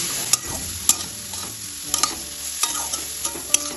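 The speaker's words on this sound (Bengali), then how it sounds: "এবার এটা তেলের সাথে ভালোভাবে নাড়তে থাকবো।" Grated carrot stirred and fried in oil for carrot laddu, a spatula scraping the pan in repeated strokes over a steady close sizzle.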